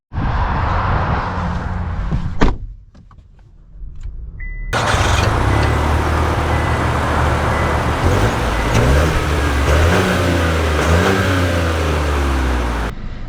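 A 2025 Chevy Trailblazer crossover starts up after a short pause, then its engine rumbles and climbs through rising and falling revs as it drives and accelerates. The drive sound stays loud and steady with no talking.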